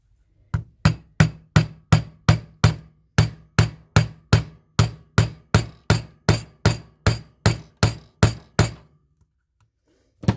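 A hammer drives something into a repainted thrift-store craft piece with about twenty sharp, evenly spaced blows in a steady rhythm, loud and close, then stops.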